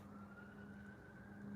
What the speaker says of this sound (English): I don't know if y'all hear that that siren going off.